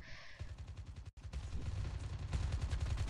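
Gunfire in Call of Duty Mobile during a team deathmatch, rapid automatic bursts rattling continuously for about three seconds with one brief gap, close and dense, with no talking.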